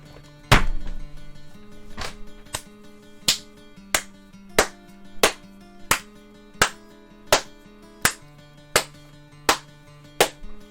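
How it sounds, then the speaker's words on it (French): One person applauds alone with slow, evenly spaced hand claps, about fifteen of them, over soft sustained video game music after finishing the game Control. "J'applaudis."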